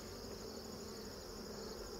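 Honeybees buzz at a beehive in a dense, steady drone with no pauses, close and even in level.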